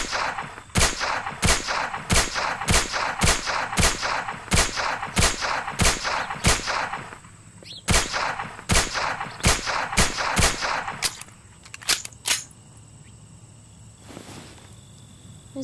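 Rapid video game gunfire: sharp shots fire in a steady, evenly spaced stream, briefly pause, resume, then thin out into a few scattered bursts before a quieter tail. No voices.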